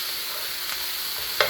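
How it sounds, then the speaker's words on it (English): Chicken frying in a pan for yakisoba with vegetables, a steady close hiss of sizzling oil with a brief sharp crackle near the end. "you hear how it cooled down and slowed down sizzling?"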